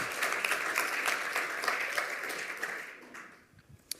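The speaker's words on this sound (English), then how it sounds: "give him a round of applause for that" An audience at a lightning talks session applauds steadily, a dense wash of many hands that fades away over the last second, with one sharp clap near the end.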